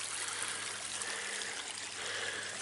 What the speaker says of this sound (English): And you can see now the water's going to flow all the way through this channel.